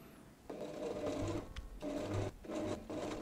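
A sewing machine stitches lace bishop sleeves with French seams in bursts of steady whirring, three runs split by short pauses, close and fairly quiet, with no talk.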